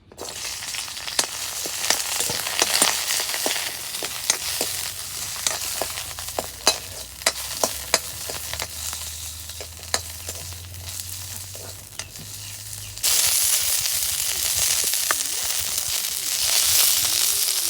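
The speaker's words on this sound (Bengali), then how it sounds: "রসুন আর মস ভাজা হচ্ছে" Garlic and green chillies crackle and sizzle in hot oil with sharp popping spatters throughout, then the hiss swells louder and denser near the end; nobody speaks.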